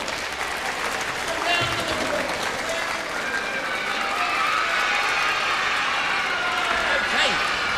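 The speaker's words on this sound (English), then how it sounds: "Give yourself a big round of applause." Loud, sustained applause from a live audience at a children's concert, steady clapping filling the whole stretch with crowd voices mixed in.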